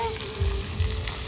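Meat cooks over a clay stove with smoke rising, giving a brief, close, steady sizzle with a faint crackle.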